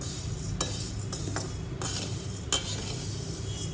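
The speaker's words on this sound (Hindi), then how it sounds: "और इसको थोड़ा सा और डार्क ब्राउन सा भूनेंगे, अच्छे से भून लेंगे।" Semolina and flour vermicelli being dry-roasted in a pan at home, giving a steady low sizzling rustle with a few sharp utensil clinks and scrapes against the pan, close and continuous with no talking.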